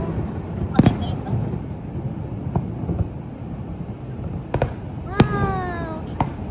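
A fireworks display at Niagara Falls, heard as scattered booms and pops with one whistling, crackling burst, over wind noise and a background crowd.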